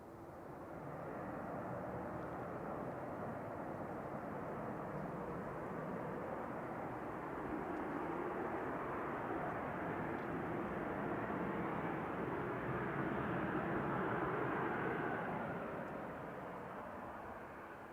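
A Boeing 737-800 arriving from Dublin touches down at Manchester Airport, a distant, steady broadband jet roar that swells slightly and holds for many seconds before easing, with no talk over it.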